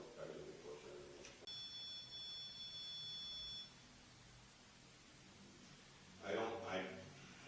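REM pod ghost-hunting device beeping during a ghost hunt in Birdsell Mansion: a steady electronic tone holds for about two seconds in a quiet room, with a short burst of speech before it and again near the end.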